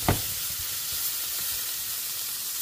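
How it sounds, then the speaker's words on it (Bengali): Cauliflower florets and carrot fry in a pan with a steady, close sizzle, a soft thump of stirring near the start, then continuous hissing with no talk. "ফুলকপিটা এখানে একটু ভেজে নিব"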